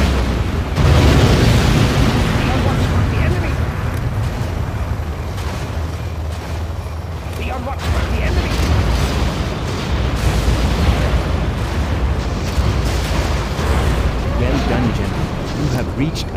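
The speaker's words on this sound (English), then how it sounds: "Launching scud stone." Scud Storm missile strike in Command & Conquer Generals, a loud continuous roar of blasts and rumbling booms lasting many seconds, with a game announcer's voice speaking over it.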